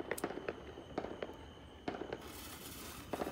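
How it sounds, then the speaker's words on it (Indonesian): Fireworks and firecrackers pop and crackle in a rapid irregular string of sharp bangs on the Fourth of July, fairly faint and distant, with several louder cracks among smaller snaps. "Bosen mainan kembang api dan mercon"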